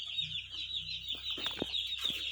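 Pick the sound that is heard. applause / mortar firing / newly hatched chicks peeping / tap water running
newly hatched chicks peeping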